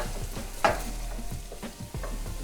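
Minced garlic and onions sauté in a pan with a low, steady sizzle, broken by a few soft scrapes of a spoon stirring, one sharper scrape standing out near the start.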